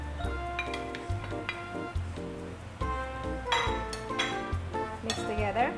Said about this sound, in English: Mix together, stir it.